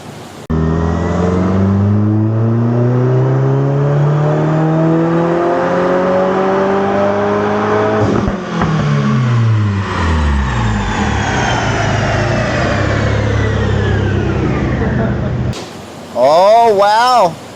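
A 2022 Subaru WRX, protuned on ethanol with a new intake, revs hard on a dyno, its engine note climbing steadily through the gears in a loud, sustained pull before easing off near the end.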